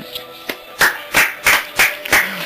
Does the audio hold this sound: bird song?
no